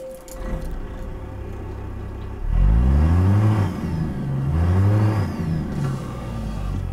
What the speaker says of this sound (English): let's fire up the truck